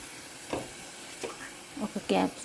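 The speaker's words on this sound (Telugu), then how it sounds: "మెంతి ఫ్రై అవుతుంది." Fenugreek seeds fry in a pan, giving faint, quiet sizzling with a few short crackling bursts that grow slightly louder near the end.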